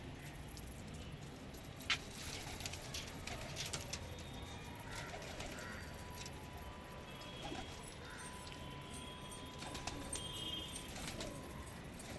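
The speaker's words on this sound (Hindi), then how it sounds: "ये कबूतर डरे हुए हैं बहुत ज़्यादा।" Frightened pigeons coo faintly in a noisy outdoor setting, with soft, scattered low calls and occasional wing or foot sounds under a constant hiss of background noise.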